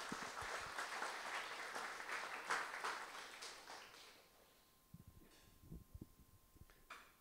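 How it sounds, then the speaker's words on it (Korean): Dense applause from a ceremony audience at an accounting standards institute's 25th anniversary event, welcoming a congratulatory speaker. Steady, full clapping for about four seconds, then fading into a quieter room with scattered claps and faint sounds. "큰 박수 부탁드리겠습니다"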